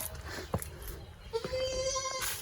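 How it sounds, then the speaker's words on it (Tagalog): A goat bleats at a rocky nature park in San Jose, Tarlac, giving a sudden sharp call and then a longer wavering bleat, close by over outdoor background noise with faint voices. "Nagulat ako sa kambing."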